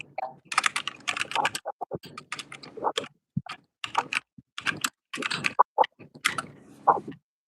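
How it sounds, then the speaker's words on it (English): Rapid, irregular clacking of a computer keyboard that keeps double typing, bursts of keystrokes with short pauses between them, close and clear with no talking. "My keyboard keeps double typing or something."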